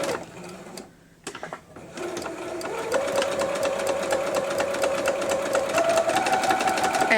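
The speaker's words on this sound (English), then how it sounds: "and I will just start stitching" Sewing machine running steadily as it top-stitches a fabric placemat with a quarter-inch seam allowance. A brief pause comes after the first stitches, then a continuous, fairly loud mechanical whir with no talking.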